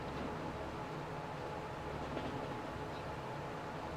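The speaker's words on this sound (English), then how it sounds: "There's the other train." A train runs steadily in Transport Fever 2, a continuous low rumble and rolling noise with a faint hiss on top, level and unbroken throughout with no talking.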